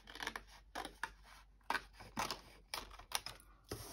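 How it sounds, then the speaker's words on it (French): Scissors cut around a paper shape for a scrapbooking craft, about nine short crisp snips in an irregular rhythm, close and quiet with no voice. "je coupe"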